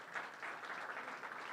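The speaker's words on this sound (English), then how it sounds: "So I'm going to give a big round of applause for Tom." Brief, faint burst of clapping from a meetup audience welcoming a speaker, an even patter of many hands heard from a distance.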